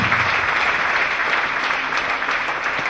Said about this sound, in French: Clap for Jesus again.